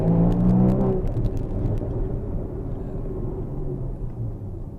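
A Porsche Boxster Spyder with an Akrapovic exhaust in Sport Plus mode gives a loud, close rev-matching blip that rises and falls quickly, then settles into a steady engine rumble and drone.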